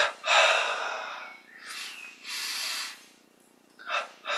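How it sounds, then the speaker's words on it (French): Slow deep breaths are taken during a guided relaxation exercise, audible inhales and exhales in close succession, airy and near, with brief quiet gaps between them and no talking. "On inspire, expire."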